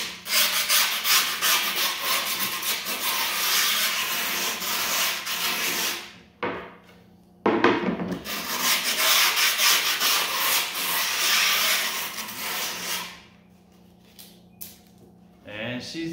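Fingers rub hard along the edges of grip tape on a skateboard deck in a garage, a close, dry scraping in two long strokes with brief pauses and small taps between.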